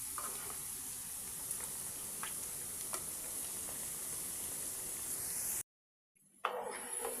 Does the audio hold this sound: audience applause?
no